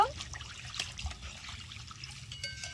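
Water pours into a pan of Bengali katla fish curry with mustard paste, turmeric, chilli powder, salt and green chillies, a soft close trickle and splash over a faint low background hum.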